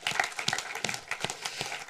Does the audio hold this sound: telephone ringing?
no